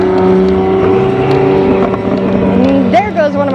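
Loud exotic racing car engine at a half-mile drag racing event, a sustained deep droning rev that swells and shifts pitch near the end, with a voice talking over it.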